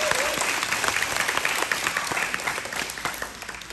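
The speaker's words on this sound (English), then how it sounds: "Please give Major Mirror a round of applause." A crowd at a military graduation ceremony claps loudly and steadily for an airman on stage. The applause is sustained and dense, then eases slightly near the end.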